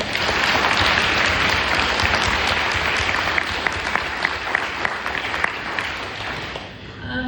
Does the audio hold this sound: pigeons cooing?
no